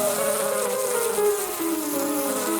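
Insects buzz loudly and close by, a steady whining drone with wavering pitch that slides gently downward, continuous with no talking.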